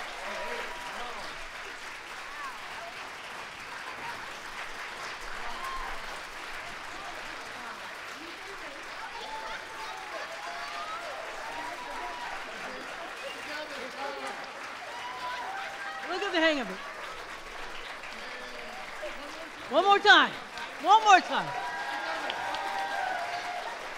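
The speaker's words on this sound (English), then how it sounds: "can we have a round of applause for five poets breaking into song?" An audience at a Halifax Public Libraries poetry and music event claps, a soft steady patter under a voice speaking over it, with a few louder bursts near the end.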